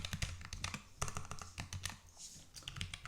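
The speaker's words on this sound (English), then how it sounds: "I'm using a quieter keyboard because I've had people say that my clicking is too loud." Rapid typing on a quiet low-profile computer keyboard, soft close-up taps and clacks in irregular bursts, one brief pause near the middle, with no talking over the keystrokes.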